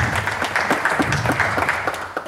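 A group applauds together after a physical conditioning exercise, a brief burst of dense, close clapping that holds steady for a couple of seconds.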